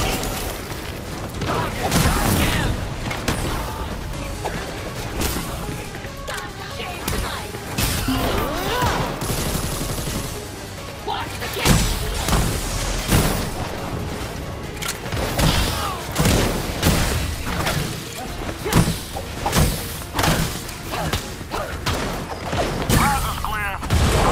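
Gotham Knights combat with repeated bursts of gunfire, booms and impacts filling a long stretch, loud and dense throughout, with voices talking amid the shooting.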